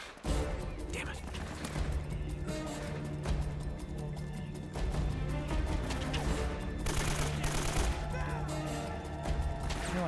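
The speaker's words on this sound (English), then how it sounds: "No idea where he's shooting from" Bursts of gunfire crackle in Uncharted: Drake's Fortune, rapid shots in uneven volleys over a steady low hum, heard at moderate distance with quiet talk mixed in.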